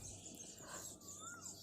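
Birds call near their nests in a rural Indian village, with a faint, quiet chirp and one short rising-falling whistle over a steady outdoor hiss.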